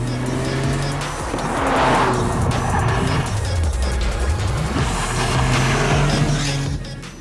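A 2023 Toyota GR Corolla on a race track, its engine rising and falling in pitch as it brakes, turns in and accelerates out of a corner, with tires squealing loudly throughout.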